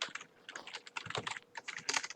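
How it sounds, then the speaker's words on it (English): Rapid, irregular clicking of fingers typing on a computer keyboard, close and fairly quiet, with short bursts of keystrokes running steadily for about two seconds and no voices. "That sounds like a keyboard"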